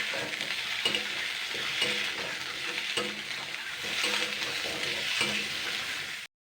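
Chopped vegetables and tomatoes are stirred and fried in a pan for a vegetarian Bengali chapor ghonto. A steady close sizzle runs under regular rhythmic scraping strokes of the spatula, roughly one per second.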